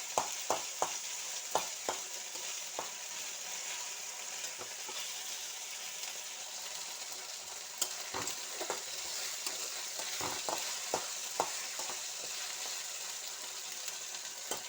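Spice paste is sautéed in a pan for a tilapia fish curry with tender coconut, a continuous quiet sizzle punctuated by irregular sharp taps and scrapes of a stirring spoon, no speech.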